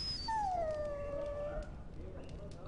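A dog in the video game Dragon Age: Origins lets out a single drawn-out whining howl that slides downward in pitch, close and clear over a low background hum, with no talking.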